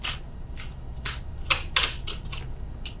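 A deck of tarot cards is shuffled by hand in a series of quick, riffling bursts, close and fairly crisp, with a faint low hum beneath and no speech.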